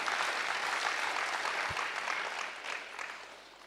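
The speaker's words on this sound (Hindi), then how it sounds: "एक बार जोरदार तालियों से सिलू दीदी का वेलकम" Welcoming applause from an audience at a spiritual question-and-answer session in a large hall, a soft, fairly distant wash of clapping that fades toward the end.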